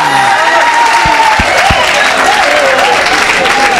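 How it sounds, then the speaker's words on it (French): A crowd at an evangelical gathering applauds and cheers loudly and steadily, a dense continuous wash of clapping with voices shouting over it. "Acclamez pour Jésus"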